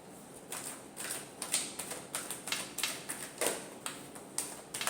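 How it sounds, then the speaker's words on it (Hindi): Tarot cards being shuffled by hand produce a rapid series of crisp riffling slaps and flutters, close and fairly quiet, repeating in uneven bursts for several seconds. "last shuffle"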